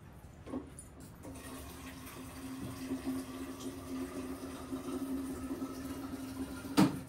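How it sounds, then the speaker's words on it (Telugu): Water pouring into an idli steamer pot, a soft continuous trickling fill lasting several seconds, fairly quiet and close, ending with a brief clank. "ఇప్పుడు ఇందులో నీళ్ళు వేసుకుందాం"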